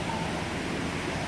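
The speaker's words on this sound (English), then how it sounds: "Stupid waterfall." A steady, dense rush of falling water fills the air, constant and broad like a nearby waterfall, with no other sounds standing out.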